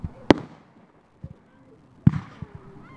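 Fireworks bursting in New York State at night, two sharp, loud bangs about two seconds apart with a few smaller pops and crackles trailing after each, and people talking nearby.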